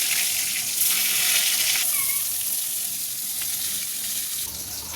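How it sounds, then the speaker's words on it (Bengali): Eggplant pieces dropped into hot oil in a home kitchen sizzle and hiss steadily throughout, a broad bright frying noise that swells slightly early on and holds without speech. "আমি বেগুনগুলো ছেড়ে দিলাম ভাজার জন্য।"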